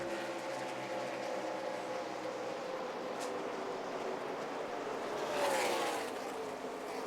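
ARCA stock cars at Kansas accelerating after a restart, a steady engine drone with a louder car sweeping past near the end, no voices.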